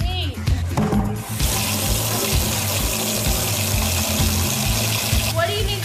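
A tap runs water into a sink for mixing plaster and sand, giving a loud, steady gushing rush. Some clatter and brief handling noises come first, and the flow continues evenly to the end.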